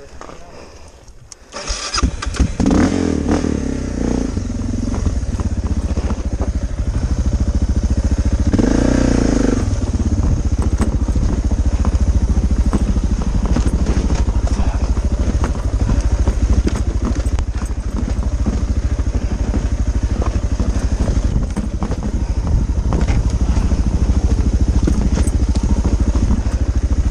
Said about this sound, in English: Look at people spinning their tire.